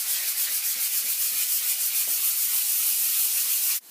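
Sandpaper rubs across a wood burl table top in close, continuous strokes, giving a rhythmic hiss that cuts off abruptly at the end.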